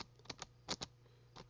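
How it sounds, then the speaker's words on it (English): A computer keyboard typed on in short, uneven bursts: about seven quiet, crisp keystrokes spread over a second and a half, heard alone with no talking. "So let's type in Sling Player"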